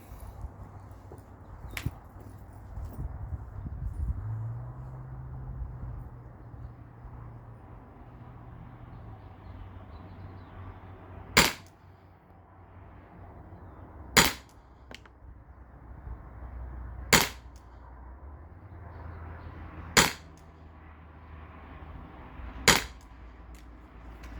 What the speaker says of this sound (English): So I'm gonna go back there and start firing.